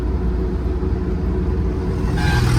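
Cars overtake one another on a busy road, making a loud, continuous engine rumble and road roar, with a vehicle surging past near the end.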